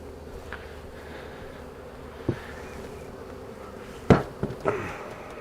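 A low, steady hum of many bees buzzing nearby around a hive, broken by a few sharp knocks and clunks of handled beekeeping equipment.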